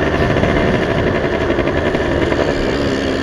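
A Yamaha V80 motorcycle engine with no air filter holds a steady, loud, buzzing high rev close up, droning evenly without pause.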